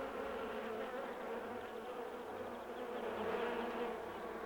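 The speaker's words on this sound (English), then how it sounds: "These bees want to know what kind of nectar and pollen they should be looking for." Honeybees inside the hive make a dense, continuous buzzing hum, steady and fairly faint, with no voices.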